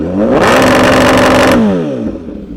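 A Brutale motorcycle fitted with a new titanium exhaust revs hard in a loud, rising engine howl that holds for about a second, then drops away as the revs fall off.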